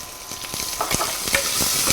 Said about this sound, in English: Okay, we're just gonna stir that.